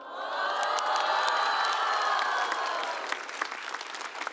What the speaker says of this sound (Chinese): 你们大部分人会后悔这个鼓掌。